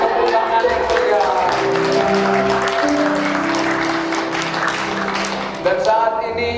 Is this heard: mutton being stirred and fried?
no